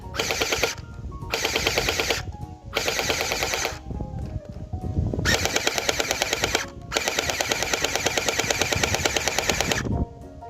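Bwine M3A1 gel ball blaster firing gel rounds at a range, with rapid full-auto bursts in several long strings separated by short pauses, loud and close with no talking.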